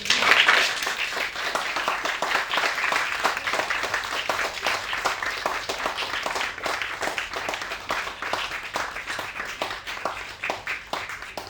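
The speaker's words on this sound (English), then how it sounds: "I think we should give you a round of applause." Audience members at a theatre talk applaud steadily, dense sustained clapping from a crowd that holds at full strength and tapers slightly near the end.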